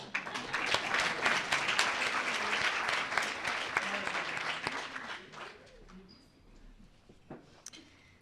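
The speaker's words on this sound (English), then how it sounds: "Please give me another round of applause for Laura Santos." A luncheon audience gives a speaker a round of applause, dense clapping that fades and thins out toward the end, leaving a few scattered claps.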